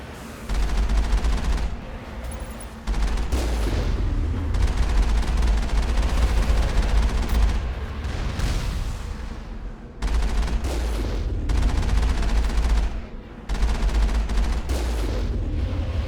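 Rocket launches and explosive weapons fire in the sci-fi shooter Mass Effect, a loud, dense barrage of booming blasts rolling on with brief gaps near the 2-, 10- and 13-second marks.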